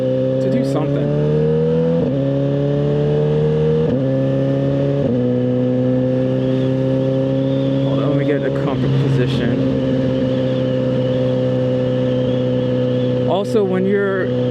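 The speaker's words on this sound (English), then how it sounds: "See, look, there's a car coming up there." A car approaching an intersection hums with a loud, close engine drone whose pitch climbs in several repeated stepped rises, continuous for the whole stretch.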